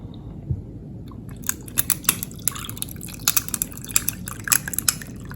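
Tahitian Terrace punch poured over ice in a glass, with irregular clinks, crackles and liquid splashes scattered over a low steady background, fairly close, with no talking.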